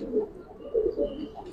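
Soft, low cooing from Giribaz pigeons of the Palla line, an old breed in silver and coloured varieties, in a couple of brief rounded bursts, fairly faint and close.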